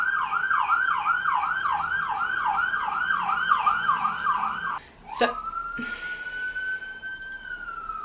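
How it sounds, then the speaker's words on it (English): A passing police car's wailing siren cycles rapidly up and down, then shifts to a long rising tone after a sharp click; a voice briefly speaks. "Oh, police siren, lovely."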